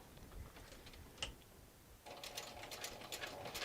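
A sewing machine stitches across fabric for a sling at a standard stitch length, a soft rapid mechanical whir. It is faint at first and picks up to a steadier run partway through.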